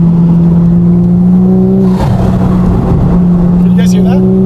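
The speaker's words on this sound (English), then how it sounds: "even the intake's louder with the induction noises" A Toyota Supra engine runs with a loud, deep droning hum, briefly revving with a rushing intake whoosh midway before settling back to a steady drone.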